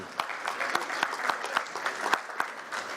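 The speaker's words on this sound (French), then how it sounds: "Aux applaudissements, merci, merci." At an insurance finance conference trophy presentation, a small, fairly quiet round of applause rises with a few distinct, regularly spaced sharp claps standing out above the softer spread of hands.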